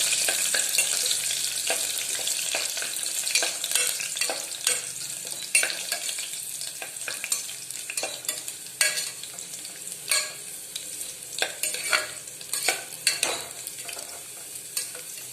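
Garlic sizzling in a hot pan for soya chunk gravy, a close, moderately loud crackle with repeated scraping and stirring strokes of a spatula throughout, with no voices.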